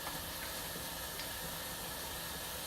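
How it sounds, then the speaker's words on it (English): Pot of black-eyed peas simmering on a stovetop, a steady broad hiss of bubbling and steam with faint soft pops, continuous and close throughout. "now we're just going to continue simmering"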